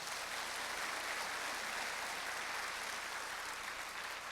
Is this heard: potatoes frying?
no